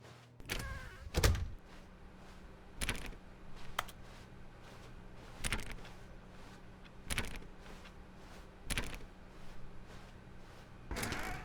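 Doors in The Stanley Parable open and close in a series of short, dull thunks spaced a couple of seconds apart over a quiet room tone, with no talking.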